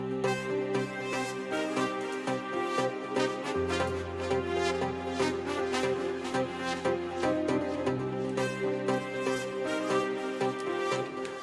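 Brass from a Kontakt plugin sits in an afro house production, a sustained harmonic layer over a steady rhythmic beat and deep bass, playing continuously with no speech.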